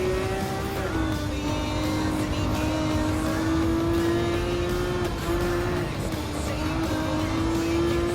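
Race car engine in Gran Turismo 7 at the Ferrari Circuit Challenge, a loud continuous drone that climbs and holds with small pitch shifts, with faint tire noise and no pauses.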